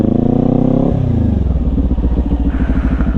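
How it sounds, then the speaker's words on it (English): A Kawasaki motorcycle pulls away as the clutch is released and throttle applied, its engine note dropping then settling into a loud, steady rhythmic pulse close by, with no talking. "turn your handlebars, release that clutch, apply throttle"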